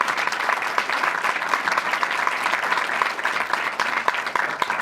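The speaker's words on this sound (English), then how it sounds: "Can we get one last round of applause?" An audience at a film Q&A for Gore, Quebec claps steadily, a dense, loud round of applause that carries on evenly throughout without pause.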